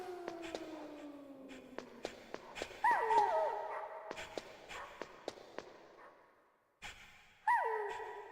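Dogs in the video game Metal Gear Solid give two short whimpering yelps, a few seconds apart, over a series of light, evenly spaced clicking footsteps.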